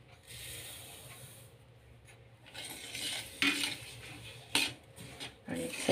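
Sesame seeds are stirred into hot sugar syrup for chikki, a spoon scraping and clinking against the pot in uneven bursts over a low steady hiss.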